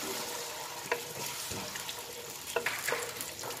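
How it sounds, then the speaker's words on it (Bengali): Ginger, garlic, onion and chili paste frying in a pan, a steady dense sizzle throughout with a few brief scraping stirs, close and continuous with no talking. "এই মশলাটা কিছুক্ষণ কষিয়ে নিব"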